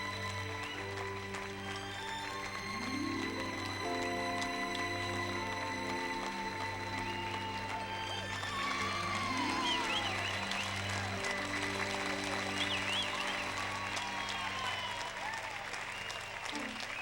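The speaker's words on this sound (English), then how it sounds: "we hear the clapping of the students and the teachers cheering at Carrie and Tommy" Sustained clapping from students with teachers cheering during a school prom scene in the film Carrie, steady and fairly full throughout, blended with an underlying musical score.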